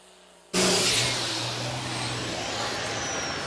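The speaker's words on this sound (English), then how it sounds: "this is John Hoffman on an 8910 they call a tractor" A tractor pull at the Colfax County Fair, with an 8910 tractor making its run: after a half-second lull the engine bursts into a loud, sustained roar that holds steady and near to the end.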